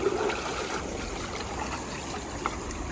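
Water runs steadily from a tap, filling a container to mix shampoo for washing an auto rickshaw, a constant close trickling hiss with no voices over it.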